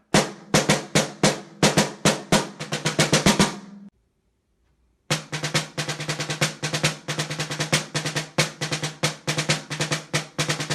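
A snare drum played with the snares engaged, crisp buzzing strokes in quick rolls and rhythmic patterns, close and loud, with a brief silent pause midway.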